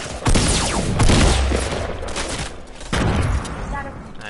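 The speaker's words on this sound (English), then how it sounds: "I sniped the kid" Loud, close sniper shots in Fortnite crack out in two or three heavy bursts with booming tails, while players talk over the action.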